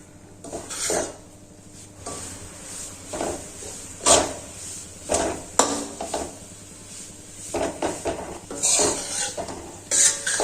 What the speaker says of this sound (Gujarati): એમ જ તમે કાચો લોટ છે તે ઘીમાં શેકી શકો છો